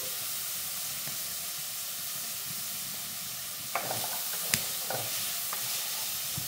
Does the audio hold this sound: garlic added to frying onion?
yes